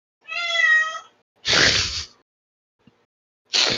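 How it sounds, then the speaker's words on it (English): A house cat meows loudly, one long harmonic cry followed by two breathy, noisy yowls with short silences between, close to the listener and with no talk over it. "that cat is the epitome of I have a mouth and I must scream."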